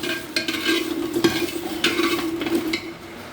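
Jackfruit seeds dry-roasting in a pan with nothing added, stirred over low heat: repeated scraping strokes of a spatula against the pan over a faint steady sizzle, close and clear, with no talking.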